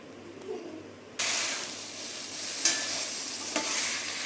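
Vegetables for a paneer biryani fry in a pan, the lid lifted as a steady close sizzle and hiss sets in, with scraping stirs breaking through the continuous frying.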